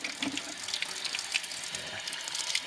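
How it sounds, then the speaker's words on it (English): Tap water runs and splashes continuously as Jerusalem artichoke tubers are rinsed by hand in a sink, a close, steady wash with small irregular splatters and no talking. "I'm going to go ahead and rinse these tubers off before I store them in sand."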